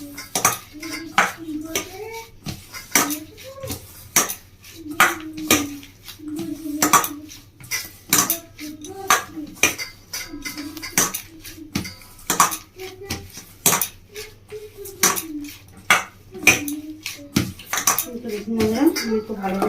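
A potato paratha filling mixed by hand in a bowl, with rhythmic repeated clinks and knocks against the dish, someone speaking softly over the handling.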